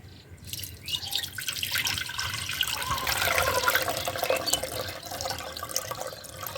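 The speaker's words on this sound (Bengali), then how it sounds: "আমি দুধটা ছেঁকে নিচ্ছি।" Milk being strained at home while making chhanar payesh, a soft continuous pouring trickle with faint drips, fairly quiet and alone throughout.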